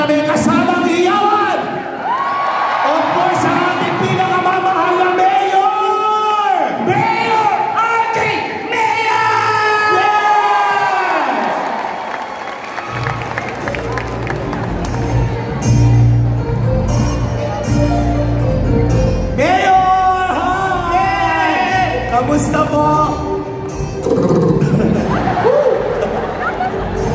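A crowd at an outdoor show in Tiaong, Quezon cheers, whoops and shouts, a loud, continuous roar of voices with music and an amplified voice running under it throughout.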